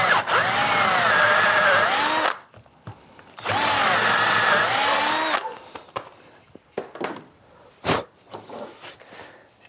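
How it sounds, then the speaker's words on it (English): A power drill with a 3/8 or 10mm bit bores out a wooden dowel in two loud, close, sustained whines of about two seconds each, separated by a pause and followed by scattered knocks and handling clatter. "so we have to drill that out. Use a 3/8 bit or 10mm bit, whatever your dowels are."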